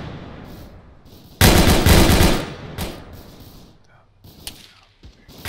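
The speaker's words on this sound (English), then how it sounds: "Just keep eyes on him and just keep firing." Machine gun fire in Arma 3 sounds as one loud, sustained burst of about a second, followed by scattered fainter shots and distant pops as the noise fades.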